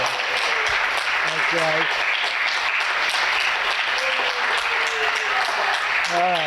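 Clapping rises from the crowd at an annual town meeting, a steady wash of applause that lasts the whole stretch, while a few people talk over it.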